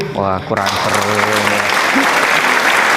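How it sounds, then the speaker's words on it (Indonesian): Students in a classroom burst into a loud, sustained round of spirit clapping that carries to the end, following a teacher's brief spoken remark. "tepuk semangat dulu"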